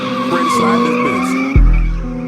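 Car tires skidding and squealing as the vehicle slides, a loud sustained screech with a sharp low thump near the end, no talking.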